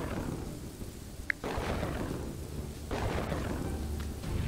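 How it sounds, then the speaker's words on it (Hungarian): A lightning strike in the city-building game Kingdoms and Castles brings rolling thunder. There is a sharp crack, then a heavy low rumble that rises again partway through over a steady rain-like hiss. "És még a villám is lecsap."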